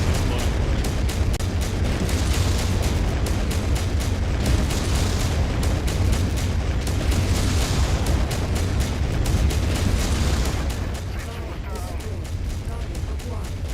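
Explosions rumble through a MechWarrior 5 battle, a dense, loud wash of repeated booms and blasts with continuous low roar, easing slightly near the end.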